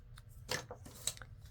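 Paper is trimmed with scissors for junk journaling, giving two or three quiet, crisp snips close by in near silence.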